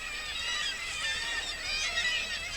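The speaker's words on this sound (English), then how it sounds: "Oh, you can hear the birds." Seabirds at the rocky St Abbs coast, a dense, continuous chorus of calls filling the air, fairly distant and steady with no talking.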